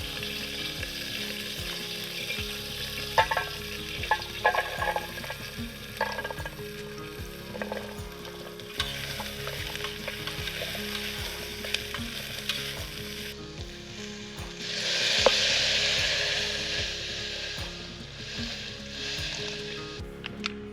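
Potatoes, carrots and onions fry in oil over a camp stove, a low steady sizzle under background music, swelling into a brighter hiss near the end.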